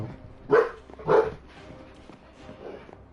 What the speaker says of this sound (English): Something really sets Remy off if she barks